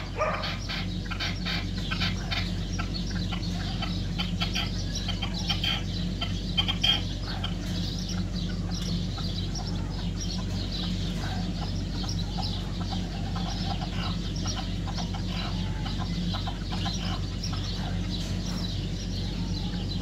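Chickens cluck repeatedly and steadily throughout, fairly near, against a constant low droning hum.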